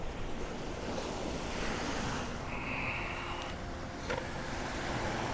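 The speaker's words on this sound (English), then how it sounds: "these little bit of waves hitting the side of the inlet" Surf washing against the side of a beach inlet at sunrise, a steady broad wash with wind noise across the microphone, continuous and fairly close, with no voices.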